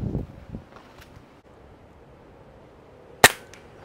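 A single sharp, loud gunshot cracks near the end while shooting at iguanas in a tree, following a quiet stretch of light wind and faint rustling outdoors.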